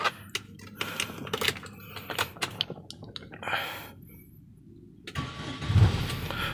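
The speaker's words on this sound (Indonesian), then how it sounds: "Oke, kita langsung nyalain aja mobil ya." Clicks and rustling inside a 2011 Hyundai H1 XG van, then the engine cranks and catches near the end, settling into a low idle.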